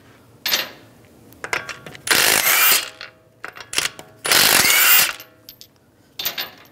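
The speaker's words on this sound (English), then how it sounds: "We're going to remove the wheel, use a 19 millimeter socket, take lug nuts off." Lug bolts come off the front wheel of a 2013–2016 Dodge Dart with a 19 mm socket, the tool giving several loud buzzing, rattling bursts separated by short clicks and pauses, close up.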